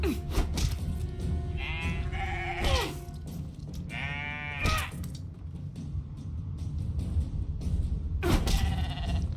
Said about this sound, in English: We're gonna fight the sheep.